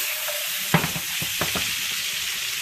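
Vegetables and shrimp sizzle in a hot pot for linguine, a steady loud frying hiss with a few sharp knocks and scrapes as the pot is shaken and stirred.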